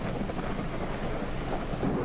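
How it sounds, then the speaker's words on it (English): A full storm rages in the Ship Simulator game, with heavy rain and a continuous thunder rumble that stays loud and steady throughout, no speech. "But yes, we have a full-on storm."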